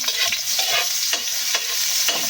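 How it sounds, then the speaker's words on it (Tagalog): Garlic and onion frying in hot oil for clam adobo, a steady close sizzle broken by repeated scraping stir strokes, with no voices. "At dahil nga mainit na yung ating mantika, ilalagay ko na itong ating bawang."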